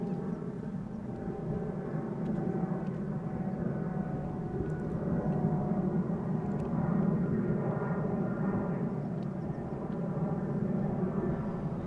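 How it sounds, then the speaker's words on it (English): A Pegasus Air Airbus A320neo, arriving from Antalya, approaches Amsterdam Schiphol with a steady, broad jet roar that holds at moderate distance throughout, without any voices. "Pegasus Air Flight 5015, Airbus A320neo arriving from Antalya"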